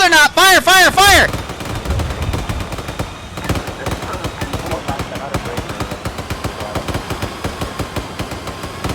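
Sustained gunfire in the video game Arma 3 rattles in fast, rhythmic bursts after a shouted order, loud and close, continuing steadily with heavy reports under occasional voices.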